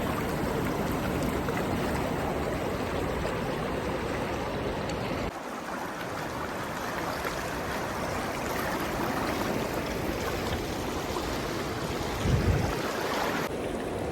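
Swat River water rushing steadily and loudly, a continuous broad roar of flowing current that stays close and constant throughout, with no voices over it.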